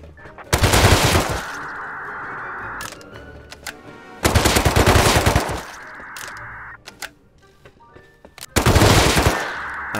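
Three loud, close bursts of rapid automatic gunfire from a survival shooter game, each lasting over a second with ringing tails between, and no talk over them.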